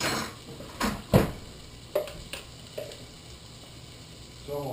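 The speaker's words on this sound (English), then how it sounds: "I'm going to put some garlic in there" Minced garlic going into a pot for split pea soup, heard as a few clinks and taps of utensil against cookware, spaced out and fairly close, over a quiet kitchen background.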